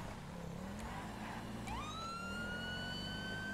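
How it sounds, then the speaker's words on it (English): Police car siren in the GTA V video game, a rising wail sweeping up and holding a high tone, loud and close over a steady engine rumble. "Flying by with my lights and siren, psych them out."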